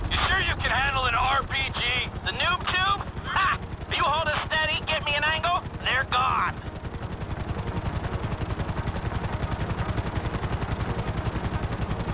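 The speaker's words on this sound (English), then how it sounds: "see three choppers! Three serious-looking choppers!" Helicopter rotors thump in a fast, steady pulse throughout a video game heist, with a burst of frantic sirens or alarms sweeping over the first half before the rotor beat carries on alone.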